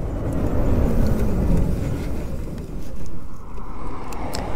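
An Apollo Sano Predator 1500 accelerates off-road, its engine a loud, rough, low drone that swells and dips slightly as it pulls through the gears.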